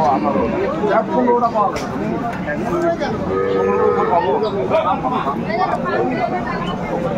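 A dairy cow lows once in the middle of the crowded Aftabganj cattle market in Dinajpur, a short moo half-buried under constant overlapping talk and market hubbub.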